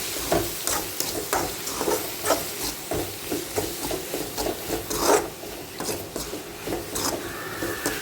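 A spoon rubs and rasps continuously through Kashmiri chili, coriander, black pepper and garam masala powders in a pan for quail egg roast, in a close, steady stirring rhythm with faint hissing.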